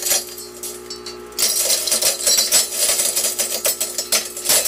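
A Fritinator 3000 commercial frit maker, a high-speed 3600 RPM machine with a steel blade, grinds glass pieces into frit. A steady motor hum is followed by loud, dense crunching and rattling as glass drops through it.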